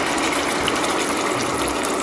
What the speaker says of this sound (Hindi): अब मैं इसमें डाल रही हूँ जो हमने अपना ग्राइंड किया हुआ था टमाटर और लाल मिर्चों से